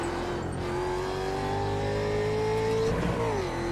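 A Ford Mustang race car accelerates hard at the Oran Park circuit, its engine note climbing steadily and loudly and then dipping briefly near the end.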